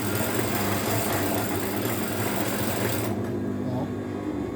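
An ordinary domestic sewing machine runs at normal speed with a steady, fast mechanical whir and hum. It is close and loud, with a faint voice underneath, and the motor stops abruptly near the end.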